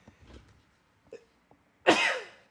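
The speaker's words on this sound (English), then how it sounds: "I'm gonna sneeze really loud." A single loud, sharp sneeze bursts out near the end, after a few quiet breaths and small mouth sounds.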